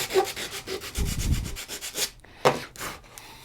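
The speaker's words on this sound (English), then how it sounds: "I'll sand it real quick so we can see." A wooden axe handle is sanded by hand in quick back-and-forth rubbing strokes, close and fairly loud, with a brief pause partway before the scraping resumes.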